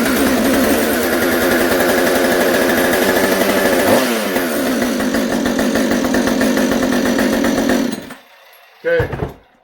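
A chainsaw that may need a carburetor kit roars loudly at a steady high idle for several seconds, then cuts out, followed by a short sputtering restart burst before dying again, heard in a shop.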